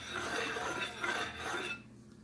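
Hand scraper working across a blued metal lathe surface, a steady rasping scrape repeated in quick strokes, close and fairly loud, then stopping near the end.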